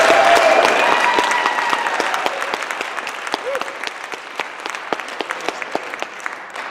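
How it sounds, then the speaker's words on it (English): Audience applause at a student climate-justice panel, starting loud and dense from many hands, then gradually thinning and fading into scattered individual claps toward the end, with a few faint tones and voices underneath. "So one more round of applause"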